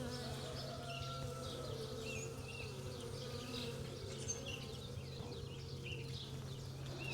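A honey bee swarm buzzing steadily at a hive, a dense continuous drone of many wings with individual bees passing close, fairly quiet and with no talking.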